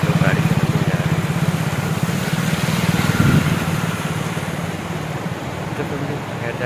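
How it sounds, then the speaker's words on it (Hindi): A scooter engine hums steadily at close range while riding over a dam bridge across a river in rural Chhattisgarh, India, a buzzing drone with faint traffic noise around it. "मैं अपने स्कूटी को भी लेके जा रहा हूँ इसी डैम के ऊपर से"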